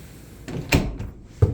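A door in a Detroit duplex opening and closing, giving a few short thumps and clatters close by, with the louder knocks near the start and end of a brief burst.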